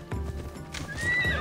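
Horse hooves clip-clop in steady rhythmic beats in Assassin's Creed Odyssey, close and clear, with a whinny rising near the end.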